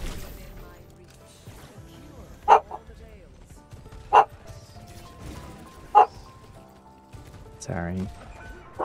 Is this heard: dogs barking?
yes